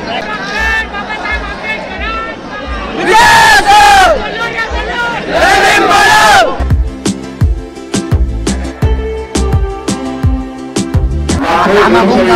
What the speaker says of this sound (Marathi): गर्दी यार लय म्हणजे लय गर्दी